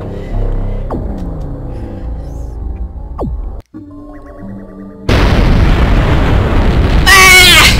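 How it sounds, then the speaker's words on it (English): A planet's surface blowing apart in a video game: a sudden loud, sustained roaring blast after a quieter stretch of synth tones and swoops, ending in crackling bursts. "I was just about to explode the planet's surface and escape into space."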